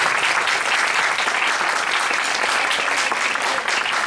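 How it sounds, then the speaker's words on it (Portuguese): Round of applause from the audience at an international affairs lecture, dense and steady clapping that stays loud and even throughout with no talk over it. "com uma salva de palmas para todo mundo, para todos nós por aqui"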